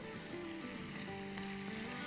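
Green chilies sizzle and fry as they are sautéed in a pan, a steady close crackling hiss that continues evenly throughout.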